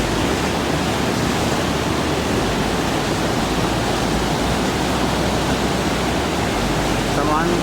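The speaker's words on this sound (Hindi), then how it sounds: "पानी का उफान तेज़ है।" Fast, churning glacial river on the Pindari Glacier trek, a steady broadband roar of rushing water close by that fills the whole clip without pause.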